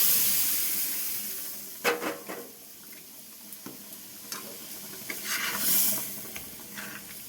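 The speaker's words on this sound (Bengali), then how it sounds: "এবার আমি ডালটা ঢেলে দেবো, ডালটা ঢেলে দিচ্ছি" Lentil dal poured into a pan of fried spice paste, giving a hissing, steaming sizzle with splashy bursts and stirring scrapes, close and moderately loud, rising and falling over several seconds.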